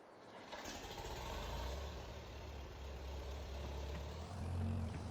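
A tractor engine in the Farming Simulator 22 video game starts up and settles into a steady low idle, heard alone at moderate level for several seconds.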